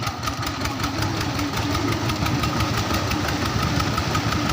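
A Kubota tractor engine chugs steadily while wading through water, a loud continuous diesel clatter with rhythmic knocking and splashing texture, close by and without talk.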